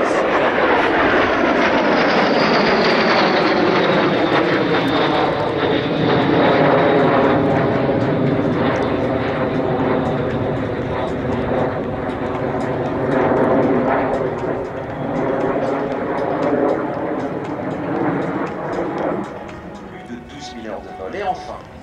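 An aerobatic airplane performs at the Air Legend 2023 air show, its engine droning loud and steady with a slowly shifting pitch as it climbs and dives, while a commentator talks over it.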